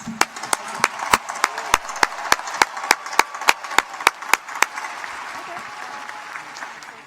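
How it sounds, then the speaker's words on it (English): Loud, sharp claps ring out in a steady rhythm over a broad wash of crowd applause, with the individual claps fading after a few seconds while the clapping continues. "Let's give them all a final round of applause."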